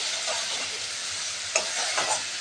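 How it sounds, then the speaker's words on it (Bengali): Tomato and potato sauté with spices in a pan over a gas flame for a prawn dish, giving a steady hiss of sizzling oil broken by a couple of sharp stirring scrapes. "সব মশলা দিয়ে আমি টমেটো আর আলুটাকে খুব ভালো করে এইভাবে কষিয়ে নেব।"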